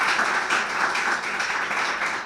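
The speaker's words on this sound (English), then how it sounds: "I really want you to give her a round of applause, because she's been so fantastic." Audience at a poetry awards event applauding, a continuous dense patter of clapping at steady volume filling the whole short stretch with no speech.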